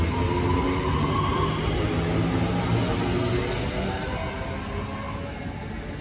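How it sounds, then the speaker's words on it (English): A Northern passenger train departs a station on the Crewe to Manchester Piccadilly service, a steady rumbling roll with a rail whine that slowly fades as it pulls away. "Departing now is the 1211 Northern service from Crewe to Manchester Piccadilly."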